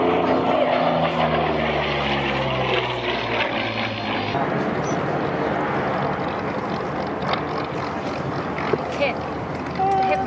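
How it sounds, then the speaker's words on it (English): Warbird fighter powered by an Allison V-1710 liquid-cooled V12 performing at an airshow, a steady engine drone with a falling pitch sweep early on, heard under continuous commentary. "This is powered by the Allison B1710, uses a 38 liquid-cooled V12 engine."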